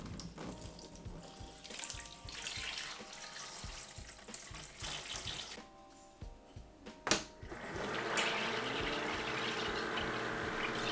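Water runs through a photo paper processor in a kitchen darkroom during a test run, a steady faint trickle and pump hum with a faster rhythmic mechanical whir, a short knock near the middle, then brighter splashing.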